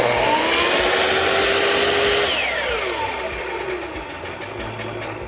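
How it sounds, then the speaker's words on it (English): A salvaged power saw with its cutter head brought down to cut: a loud motor whine that falls in pitch as the blade keeps spinning down, fading toward the end. "You bring the cutter head down to make a cut."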